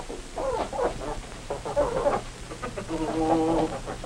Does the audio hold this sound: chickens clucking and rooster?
yes